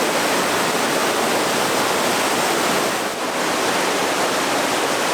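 Waterfall in Lydford Gorge, a wooded river gorge, roaring as a steady, loud, close broadband rush of heavy falling water that continues unbroken with no voices.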